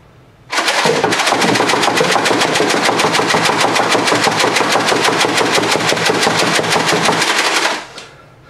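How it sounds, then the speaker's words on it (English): A Nerf Vortex Pyragon disc blaster is slam fired into a box, producing a loud, rapid, unbroken stream of mechanical shots for about seven seconds before stopping abruptly. "I'm going to slam fire into this box, hopefully at the max rate that I can go"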